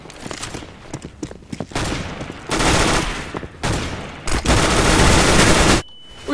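Rapid gunfire from CS:GO crackles in loud sustained bursts separated by short gaps, dominating the mix with little else audible.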